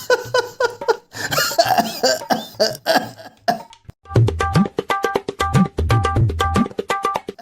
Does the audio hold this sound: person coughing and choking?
yes